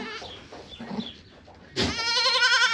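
A newborn Toggenburg-colored doe goat kid gives one clear, high, quavering bleat near the end, after soft rustling and quiet handling noises.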